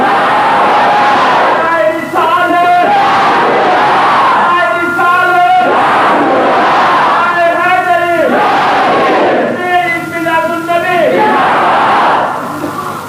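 A crowd in a mosque during a Milad gathering loudly chants the 'Ya Rasool Allah' slogan in repeated call-and-response bursts, many voices together, with a leading voice between the chants.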